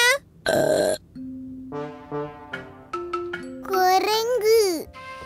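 A cartoon character in a Tamil children's cartoon lets out a loud, rasping burp near the start, followed by lively child-like voices talking.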